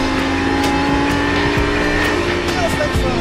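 A Lamborghini LP560 engine is held at full throttle on a race circuit, a loud, steady, close drone with rising engine tone, with someone talking over it.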